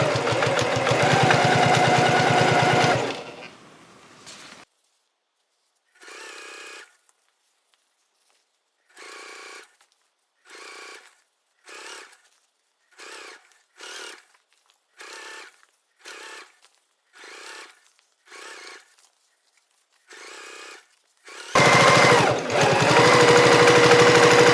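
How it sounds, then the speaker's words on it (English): A sewing machine topstitches around the gusset of a cork shoulder bag, running in about a dozen short rhythmic bursts with pauses between, framed by louder steady whirring at the start and end. "just keep sewing all the way around, making sure your seam allowance is pushed towards the gusset"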